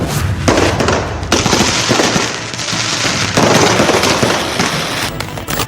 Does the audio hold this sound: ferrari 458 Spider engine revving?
no